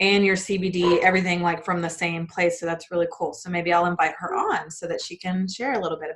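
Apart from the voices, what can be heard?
None of the usual background noises is heard.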